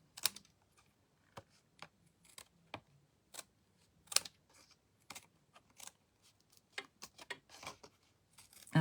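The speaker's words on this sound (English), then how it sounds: "I'm just going to trim this with my scissors" Scissors cutting paper during a craft session, heard as a series of short, sharp snips spaced irregularly and fairly close, with no talking.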